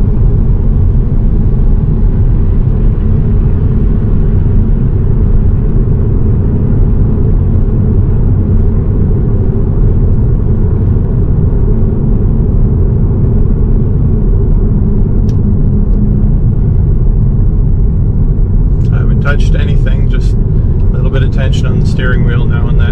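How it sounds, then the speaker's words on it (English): Interior road noise of a Tesla on Full Self-Driving beta in northern British Columbia, Canada, a steady low rumble that holds throughout, with a voice speaking briefly near the end. "Acceleration right off the red light is decent."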